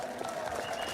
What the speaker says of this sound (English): Clap louder if you did more.